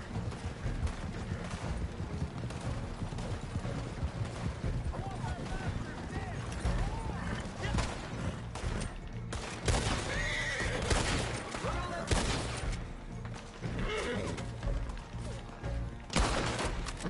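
In the video game Red Dead Redemption 2 Online, a horse whinnies and neighs repeatedly over hoof clip-clop, with bursts of gunfire and a person talking throughout.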